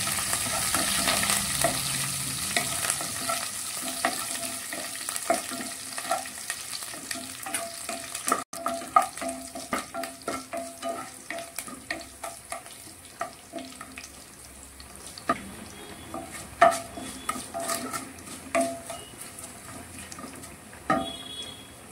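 Garlic and curry leaves fry in hot oil with a steady loud sizzle and crackle that carries throughout, scattered pops and occasional stirring clinks over it, for an ivy gourd masala, no voices.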